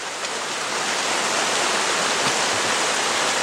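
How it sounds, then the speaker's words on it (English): Steady rain falls outdoors, a dense even hiss with no break, loud and close, as a mechanic works on a GM timing chain job with a belt tensioner. "it's raining out here, so dang it, the noise"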